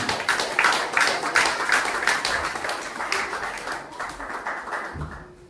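A church congregation claps in praise during a service, many hands in brisk, rhythmic, loud applause that gradually thins and fades away toward the end.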